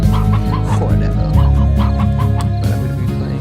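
Chickens in the video game Slime Rancher cluck loudly and repeatedly, close up, over steady game music.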